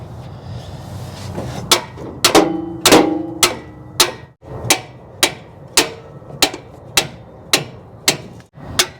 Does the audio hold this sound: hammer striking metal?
yes